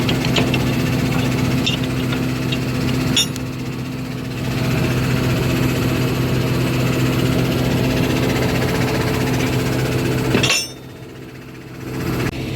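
A dairy farm tractor engine idles steadily at a low rumble, with occasional metallic clinks, then drops away near the end.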